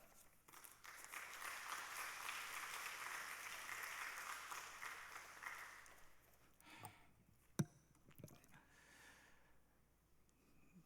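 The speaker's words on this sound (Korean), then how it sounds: "박수로 인사 나누겠습니다." A church congregation at a Wednesday evening service claps as a greeting, a faint, even patter of applause that fades after several seconds and leaves a few scattered sounds and breaths.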